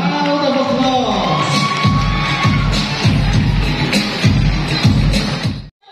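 An audience at an inter-neighbourhood muses pageant cheers and applauds for a judge, with crowd shouting and whooping over steady rhythmic thumps.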